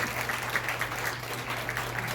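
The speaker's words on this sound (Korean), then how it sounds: "여러분 박수 한번 보내주시기 바랍니다" An audience at a political forum gives a steady round of applause, moderately loud and even, over a constant low hum in the room.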